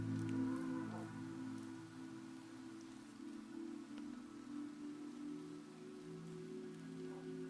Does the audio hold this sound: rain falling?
yes